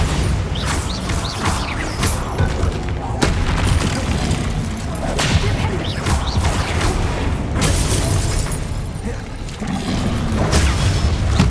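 Bombarda blasting spell going off in the Hogwarts Legacy video game, a dense run of heavy booming bursts and crashing impacts layered over loud continuous battle noise, with several sharp loud hits spread across the span.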